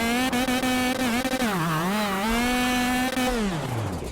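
Steady, close engine drone of a KA100 racing kart in the KartKraft racing game, lapping Paul Fletcher International, its pitch rising and dipping through corners before dropping away at the end.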